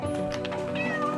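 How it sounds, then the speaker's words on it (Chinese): A kitten gives a few close, clear meows in quick succession, loud and high-pitched, with faint background murmur. "哎，小猫，"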